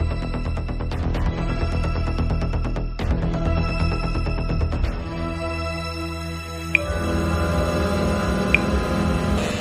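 A telephone bell rings continuously, loud and metallic, with a few sharp mechanical clicks breaking in before the ringing tone shifts; no speech.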